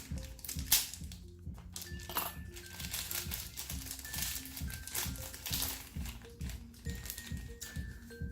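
Plastic packaging around a giveaway product, a soft fluffy item, is cut open with crinkling, rustling crackles that run steadily over a quiet background of musical tones.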